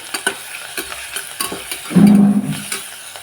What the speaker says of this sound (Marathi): लगेचच टाकले मी त्याच्यात अद्रक लसणाचं पेस्ट त्याला आपण दोन मिनटं छान फ्राय करून घेऊ